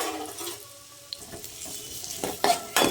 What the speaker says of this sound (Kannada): ಈರುಳ್ಳಿನ ಚೆನ್ನಾಗಿ ಫ್ರೈ ಮಾಡ್ತೀನಿ ನಾನು.